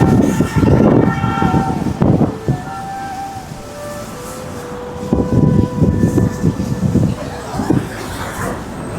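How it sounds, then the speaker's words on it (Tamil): A train runs along a track beside the road in Darjeeling, with a rumbling passage, a sustained horn tone and some background noise. "ஸோ ட்ரெயின் வருது பாருங்களேன்."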